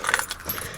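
A close, brief metallic jangle of car keys for a BMW E90 rattles for under a second inside the car, without talk.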